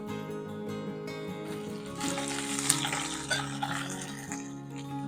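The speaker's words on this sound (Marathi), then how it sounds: "आता मी यात घालत आहे कढीपत्ता" Curry leaves are dropped into hot oil with softened, lightly browned onions for a ring samosa filling. The oil sizzles steadily up close, and a brighter, louder crackle breaks out about two seconds in and carries on to the end.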